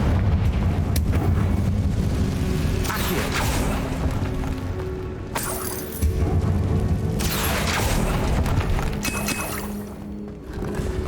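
Confringo blasting-spell explosions in the Hogwarts Legacy game, loud rumbling booms and eruptions under a dense, continuous bed of game sound and music.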